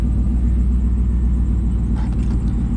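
A Camaro SS SLP V8 engine idles steadily up close after a jump-start, with a deep, even rumble and a brief faint rattle near the end from a worn tensioner pulley.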